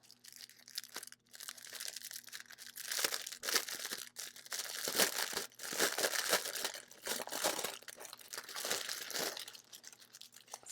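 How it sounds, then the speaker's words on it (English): Resealable plastic bags holding diamond painting drills crinkle and crackle in bursts of sharp, close rustling, with brief pauses between handling, and no talking. "One of these days I'll become an expert at these little plastic bags that reseal."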